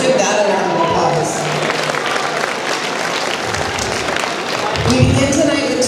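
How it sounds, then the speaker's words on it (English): Sustained, dense applause from a large audience at an annual awards and anniversaries soiree, a steady wash of clapping that holds for about six seconds and swells slightly near the end. "Let's give that a round of applause."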